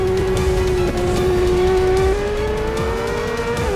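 Onboard a racing motorcycle at speed on a circuit during a spring cup race, the engine holding a loud, steady high-pitched whine with slight shifts in pitch and continuous wind and road roar throughout.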